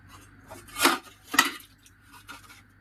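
Dishes being scrubbed and washed by hand at home, with two sharp clattering knocks of utensils against each other amid soft rubbing and faint scraping, close by, no talking.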